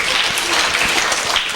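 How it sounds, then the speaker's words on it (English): Students at a school gathering clap in a brief, dense burst, a steady close wash of hands with no talk over it. "Give yourselves a round of applause"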